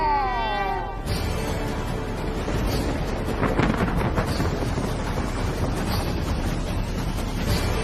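Heavy rain hammers down in a dense steady wash, with rumbling thunder and gusty wind buffeting close by throughout, no voices over it.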